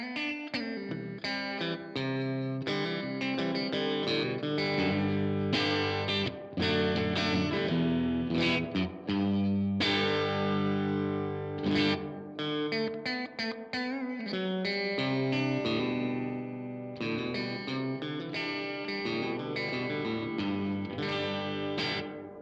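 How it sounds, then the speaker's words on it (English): Electric instrument played through a Chase Bliss CXM 1978 reverb pedal, with a loud continuous run of notes and chords carrying a vintage, metallic, oil-drum-like reverb wash and lingering decays. "It's like almost like an old kind of oil drum reverb."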